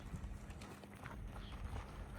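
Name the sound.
horse (mare) hooves clip-clopping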